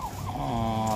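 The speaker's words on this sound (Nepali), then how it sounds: "यहाँ देखिएको चाहिँ यो सबै फिमेल टर्कीहरू हुन्।" Female turkeys on a farm gobbling, one close rapid warbling call that rises and trails off within about a second, with faint background fowl.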